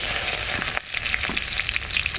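Onion and green chili frying in hot oil in a wok, a loud, steady close-up sizzle with dense crackling throughout and no talking.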